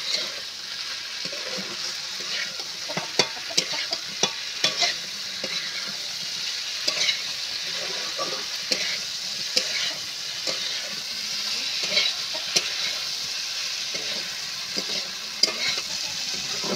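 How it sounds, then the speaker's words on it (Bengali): Okra and potatoes sautéing for a fish curry, a loud steady sizzle with repeated spatula scrapes and taps against the pan as the vegetables are stirred. "ভেন্ডি আলু কষানো হয়ে গেছে"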